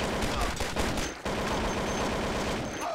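In the Mafia Modern mod, an automatic weapon rattles off dense, continuous gunfire that stays loud and close with only a brief break.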